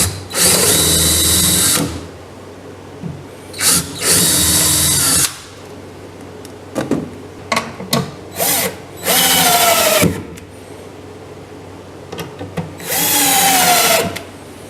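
A power drill drives substantial stainless steel screws into the floor of a homemade wooden boat, with several loud whirring bursts of one to two seconds separated by short blips and quiet pauses.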